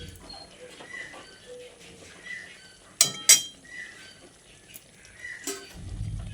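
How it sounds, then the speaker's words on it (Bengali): A spoon stirs pointed gourd curry in a pan, with a couple of sharp metallic clinks against the pan amid quiet scraping and soft kitchen background. "এবার আমি আরও একবার ভালো করে নেড়েচেড়ে মিশিয়ে নিচ্ছি।"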